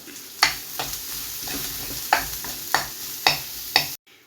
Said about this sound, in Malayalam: ഒരു സവാളയാണ് ഞാൻ അരിഞ്ഞു വെച്ചിരുന്നത് അത് ചേർത്ത് കൊടുത്തിട്ടുണ്ട് നന്നായിട്ടൊന്ന് വഴറ്റി കൊടുക്കുക